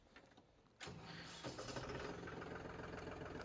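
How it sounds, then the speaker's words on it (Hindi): A farm tractor engine cranks and catches after a quiet start, then settles into a steady, loud rumble at close range. "फिर हम कर लेते हैं अपने ट्रैक्टर को स्टार्ट।"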